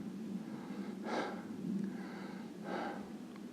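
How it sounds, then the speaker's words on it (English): Heavy, close breathing from a hiker climbing in the mountains at evening, with two loud drawn breaths standing out over quieter panting. "Sure you can hear me breathing."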